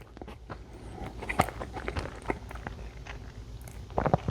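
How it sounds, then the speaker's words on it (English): Close, crisp bites and soft wet chewing of a warm, gooey peanut butter cookie, with irregular crunchy clicks spread through and a louder cluster of bites near the end. "is a nice, warm, gooey peanut butter cookie. Time to eat it."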